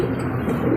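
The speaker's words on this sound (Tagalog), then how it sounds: "Ayan mga batang ibon." Young pigeons released for flight near a loft, with soft cooing and faint wingbeats under a steady rush of strong wind, brief and fairly close.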